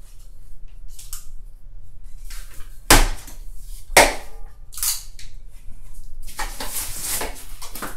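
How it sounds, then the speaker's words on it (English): Scissors snipping wire ties off the legs of a Graco Blossom stroller-seat, with two sharp, close cuts a second apart followed by plastic rustling and handling noises. "you're gonna need some kind of scissors or some blades to cut them apart"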